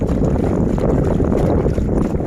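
Strong wind by the Mekong river buffets the microphone in a loud, continuous rushing roar, mingled with what may be faint water movement, and nobody speaks.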